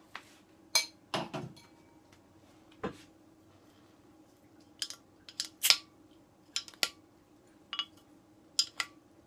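A bottle of Alpine Nelson IPA is pried open with the end of a spoon in a kitchen, giving a scattering of sharp, close metallic clicks and clinks over a quiet background.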